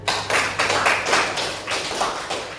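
Classroom students clapping together in a string of sharp, rhythmic hand claps, close and fairly loud, in uneven bursts.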